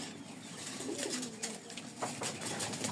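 Rajshahi Giribaz pigeons at a pigeon market cooing softly in the background through a steady hiss, with low repeated coos and no talking.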